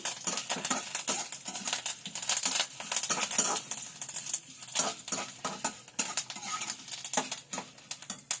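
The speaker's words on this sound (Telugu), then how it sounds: "కొంచెం కరివేపాకు కూడా వేద్దామండి. ఇవన్నీ బాగా వేయించుకోవాలి." Curry leaves sizzle and get stirred in a pan, metal spoon scraping and clinking in a steady, irregular patter of close, light taps over a quiet frying hiss.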